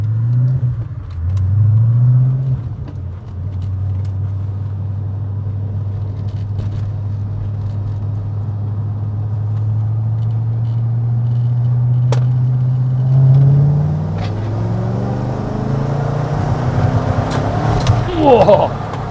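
An Audi RS4 engine pulls hard under load, a loud steady rumble that rises in pitch as the car accelerates, with a voice briefly heard near the end.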